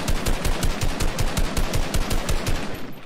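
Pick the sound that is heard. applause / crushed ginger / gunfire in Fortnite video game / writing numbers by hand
gunfire in Fortnite video game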